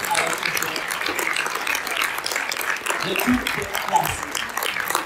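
An audience at a Polish book launch claps in a dense, sustained round of applause, with a voice speaking briefly over it.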